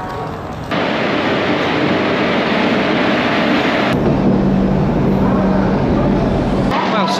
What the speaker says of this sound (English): looks like the train's come in.